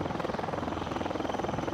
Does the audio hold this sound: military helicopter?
yes